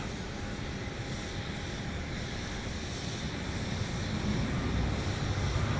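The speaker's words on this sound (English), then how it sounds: "I hear its reverse thrusters." An airliner at Dallas Love Field roars with reverse thrust after landing, a broad, steady rumble heard from a distance that swells slightly toward the end, with wind blowing on the microphone.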